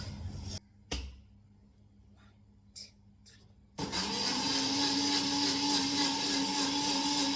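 A kitchen mixer grinder blending a detox drink: a few short knocks and clicks, then the motor kicks in with a loud, steady high whirring drone that continues to the end.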